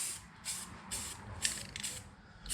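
An aerosol can sprays paint onto go-kart parts in short repeated hissing bursts, about five or six, close and fairly soft, with pauses between them.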